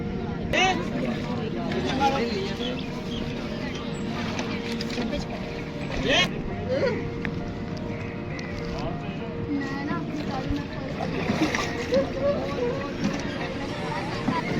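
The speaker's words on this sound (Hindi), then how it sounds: "अभी हम कर रहे हैं कश्ती के अंदर सफर दरिया रावी में।" Boat ride on the Ravi river, with a steady rumble of the boat and water sloshing throughout, plus scattered bumps and splashes; voices murmur in the background.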